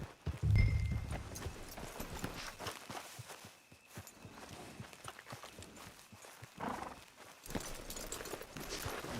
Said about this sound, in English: Get your horse.